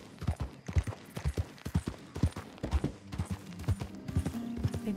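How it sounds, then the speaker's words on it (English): Horse hooves clip-clop steadily at a riding gait in Red Dead Redemption 2, a rapid rhythmic series of close, distinct thuds with a faint whinny and some low game ambience toward the end. "I swear I could just ride around on this horse all day."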